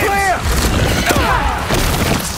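Soldiers open fire in a Spider-Man 2 battle, a loud rumbling burst of booming gunfire and crashes that fills the short moment, with voices shouting and calling out over the noise.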